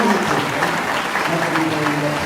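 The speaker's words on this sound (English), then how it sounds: "Nice big round of applause" A big round of applause from a theatre audience for a singer and impressionist, loud, dense clapping that carries on steadily, with faint crowd murmur beneath.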